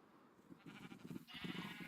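Sheep bleating in Minecraft, a couple of short, faint nasal bleats in quick succession at low volume over quiet game ambience.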